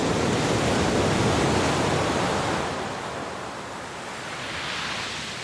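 Sea waves surge in a steady, dense roar of surf that swells loud and then eases slightly, broad and close, with no voices.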